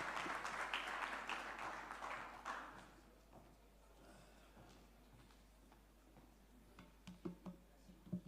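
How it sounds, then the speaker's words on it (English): Audience applause at a Future of Work dialogue session rises loudly at first, then thins into scattered claps and fades to near quiet, with a few isolated claps at the end. "a proper round of applause, a proper round of applause"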